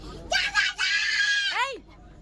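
A child on a train lets out a loud, shrill scream lasting over a second that breaks off briefly, then ends in a falling squeal, close to the listener.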